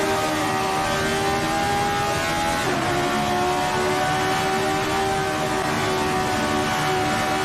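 A race car engine in a racing video game, a Formula car at Mugello, howls at high revs continuously uphill, a steady whine with a brief shift in pitch midway, loud and close.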